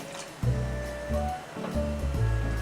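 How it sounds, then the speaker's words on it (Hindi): Water is poured into a pot of simmering chana dal gosht, giving a rushing, splashing gush in several surges with brief pauses between them, close and fairly loud. "इसी पॉइंट पर हम इसमें थोड़ा पानी ऐड करेंगे और पानी ऐड करके इसे पकाएंगे"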